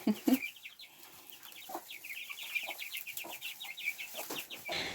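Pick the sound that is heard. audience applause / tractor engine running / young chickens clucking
young chickens clucking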